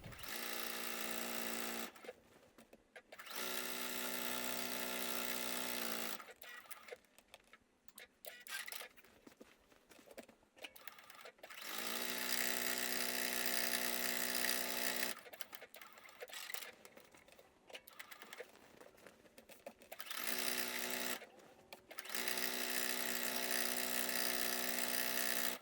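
A domestic sewing machine stitches a quilt in long steady whirring runs separated by short pauses, close and clear, with no voices.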